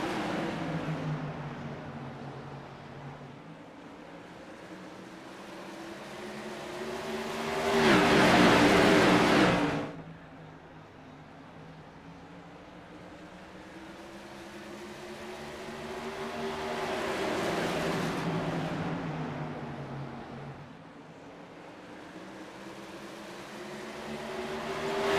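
Flexible Freight Tour modified race cars roar around the Nashville Fairgrounds track, engines swelling and fading as packs pass in two loud surges over a steady droning background.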